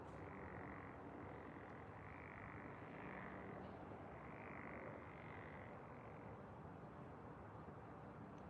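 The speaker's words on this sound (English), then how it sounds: "there was a frog over here. I don't know. I know I heard him." Frogs croak steadily at night beside the water at a catfishing spot, a dense, continuous chorus of repeated calls holding at moderate loudness throughout with no voices.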